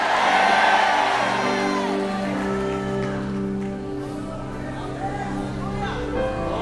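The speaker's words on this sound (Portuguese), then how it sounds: "dá um grito para acordar a cidade inteira" Church crowd shouting, whooping and cheering loudly in a large hall at an evangelical event, the roar strongest at first and then settling into a sustained noisy din with scattered cries.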